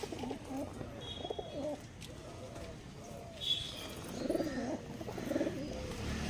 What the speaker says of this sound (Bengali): দেখুন পায়রাগুলো